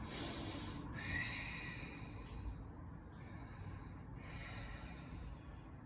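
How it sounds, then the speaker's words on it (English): Slow Ujjayi breathing during a seated yoga quad stretch, a soft hissing throat breath drawn in and out in long, steady waves, close and quiet with no talk. "Ujjayi breaths"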